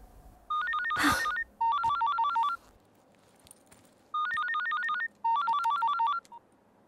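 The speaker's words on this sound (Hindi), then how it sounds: "sorry my phone is ringing" A phone ringtone plays a quick electronic melody in four bursts with short pauses between them, fairly close and clear, with a brief rustle early on.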